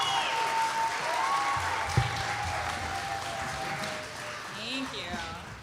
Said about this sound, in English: one more round of applause, please, for these four amazing artists.